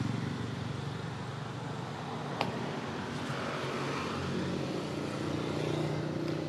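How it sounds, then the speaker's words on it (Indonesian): Car driving along, a steady moderate engine and road rumble with a single brief click, no talk. "Kondisi ketika mobil sedang berjalan."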